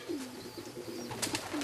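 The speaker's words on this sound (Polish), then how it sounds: "trzy kolejne gołębie nadleciały" Racing pigeons arriving at a loft in Łochów, Poland, giving low soft coos that repeat through the moment, joined by a few brief wing or movement rustles, with no talk.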